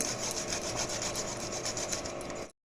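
Fresh ginger, about an inch of it, is rubbed against a kitchen grater in quick, close, steady raspy strokes for a couple of seconds before stopping abruptly.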